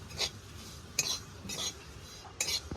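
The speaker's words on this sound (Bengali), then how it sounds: "আবার নেড়ে নাড়তে হবে, থামলে হবে না, হালকা করে ভেজে নেব" Peanuts being stirred in a pan as they fry for laddus, giving several short scraping, rattling strokes spaced about half a second to a second apart over a faint background hiss.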